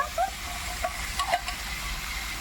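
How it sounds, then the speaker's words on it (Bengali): Fresh local fish frying slowly in a pan, giving a soft steady sizzle and hiss with a few faint pops, quiet and close, with no talking. "একদম টাটকা দেশি মাছের মাছ এগুলো সুন্দর আস্তে আস্তে ভেজে নেব"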